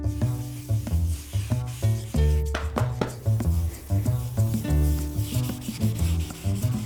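A natural guitar finish of resin and wood is wet-sanded by hand with 1500-grit sandpaper, giving close, steady back-and-forth rubbing strokes in a regular rhythm that continue throughout.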